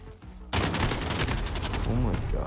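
Rapid gunfire bursts from a shotgun match in Call of Duty: Modern Warfare, loud and dense after a quieter start, with in-game voices and effects mixed in.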